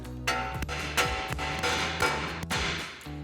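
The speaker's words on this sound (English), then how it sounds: "We're gonna tap this with a hammer just to break that free." A hammer taps the ball joint nut on the steering knuckle of a 2012-2018 RAM 1500 several times. Sharp metallic strikes fall at irregular intervals, close and fairly loud.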